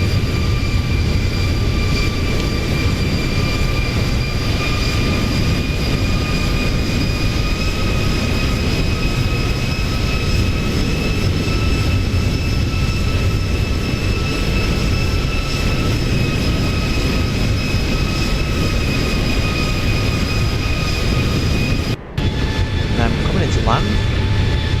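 Simulated Boeing 737-800 landing in X-Plane, a steady loud engine and airflow roar holding through the approach with faint tonal whines above, and a brief dropout near the end.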